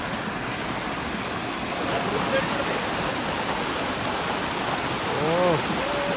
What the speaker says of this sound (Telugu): అది వాటర్ పడుతున్నాడు